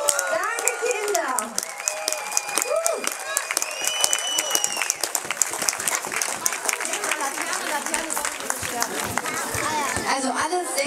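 Lively applause with clapping and cheering at a lantern song event, while children's voices and chatter rise and fall through the crowd noise.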